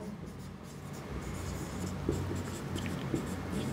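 Chalk or marker scratches across a board during a biology lecture on invertebrate larvae, a soft continuous scraping with a couple of sharper taps, in a quiet room with no talking.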